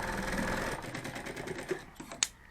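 A sewing machine runs a short seam on a handmade bag, giving a close rattling whir that slows and then stops with a couple of clicks as the work is handled.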